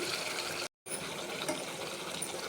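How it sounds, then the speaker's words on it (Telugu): Continuous rushing splash of water poured into a pan of brinjal chicken curry, broken by a split-second silence before it resumes at the same steady level. "ఇప్పుడు కొంచెం వాటర్ వేస్తున్నా"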